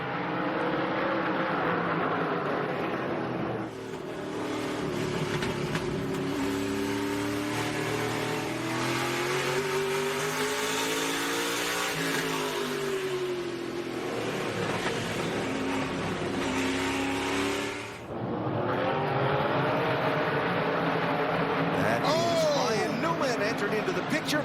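SRX race cars roar around Stafford Motor Speedway in a loud, sustained rush of revving engines with rising and falling pitch and a short break midway, while a commentator talks over the racing.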